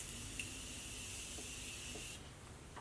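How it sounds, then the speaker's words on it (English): Morphe setting spray mists onto a face as one continuous, soft, close hiss lasting about two seconds, then cutting off into quiet. "I'm going to be using the Morphe setting spray, which is my all-time favorite"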